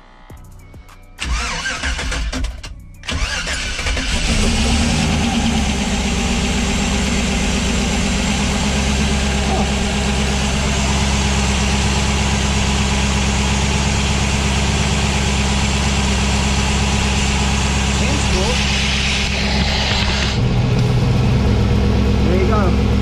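A Winnebago motorhome engine, freshly fitted with wastegate plumbing, cranks and catches, then settles into a steady, loud, continuous idle that runs for the whole stretch; a voice briefly talks near the start.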